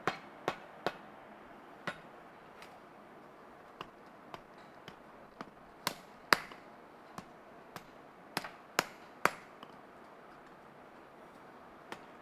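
A blacksmith strikes hot metal on the side of an anvil at a forge demonstration, giving sharp, ringing hammer blows at an uneven pace, some clustered and some spaced apart, over a quiet background.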